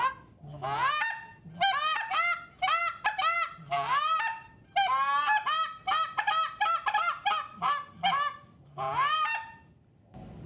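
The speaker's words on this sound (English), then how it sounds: "Want to hear me rip this goose call?" A goose call blown by a hunter, a rapid series of loud, close honks and clucks in bursts and longer strings with short pauses, sounding much like real geese.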